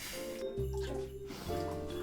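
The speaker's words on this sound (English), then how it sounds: "Alright, pour some in." A thick liquid is poured into a cocktail glass in a short, quiet glugging pour close by, the filling tone shifting as the glass fills, with no talk.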